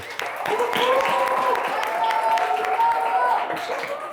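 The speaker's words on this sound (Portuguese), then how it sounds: "uma salva de palmas para os caras aí" An audience at a Christian camp lecture applauds in a sustained, dense patter of clapping lasting several seconds, with voices mixed in among the claps.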